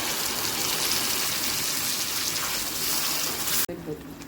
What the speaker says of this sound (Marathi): ह्यातच मी पाणी पण टाकणार।